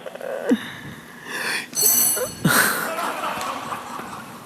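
A quiz show buzzer on a televised quiz competition gives a short, bright ringing burst between voices in the studio.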